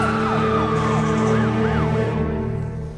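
A cartoon fire truck siren wails loud and close in repeated rising-and-falling sweeps over a steady engine-like drone, fading slightly toward the end.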